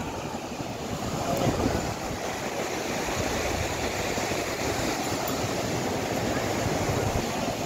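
Sea waves roll in at Puri beach in Odisha as a steady, loud wash of surf that fills the whole stretch with unbroken broadband roar and no talk.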